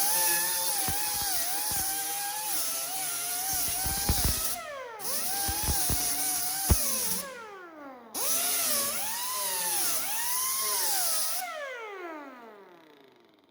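Angle grinder working over a welded metal panel edge, a loud continuous whine that rises and falls in pitch as the load changes, with brief cutoffs and spin-down glides between passes.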